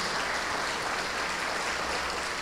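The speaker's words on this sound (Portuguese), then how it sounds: "Vamos aplaudir ao nosso Senhor Jesus." A church congregation applauding during a sermon, a dense, even wash of clapping from many hands sustained for a couple of seconds.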